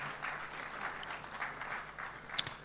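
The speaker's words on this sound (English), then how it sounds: "Please give me a round of applause for Dato' Lee Yao Chor." Applause from a forum audience at a CEO business conference, a steady and fairly faint patter of clapping with no talk over it.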